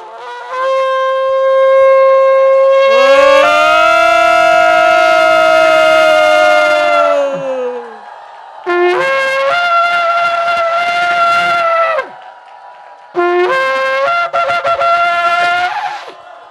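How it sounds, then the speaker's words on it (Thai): A shofar blown during a worship service in the month of Tishrei sounds three loud blasts: a long rising call, then two shorter ones, each separated by brief pauses. "เมื่อเสียงแตรเป่า ให้เราโห่ร้องในความยินดีพระสิริของพระองค์"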